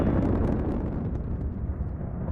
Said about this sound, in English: That was a beautiful explosion